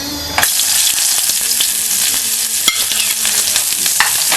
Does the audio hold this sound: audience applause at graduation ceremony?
no